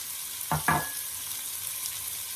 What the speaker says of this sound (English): Putting in my hot peppers.